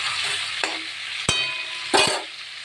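Bhetki fish bones frying in hot oil in a pan, a steady soft sizzle broken by a few sharp clinks and scrapes of a spatula stirring.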